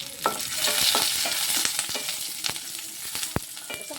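Curry leaves, garlic and slit green chillies sizzle in a hot pan for a papaya thoran, while a spatula stirs with scattered scraping clicks over a steady close frying hiss.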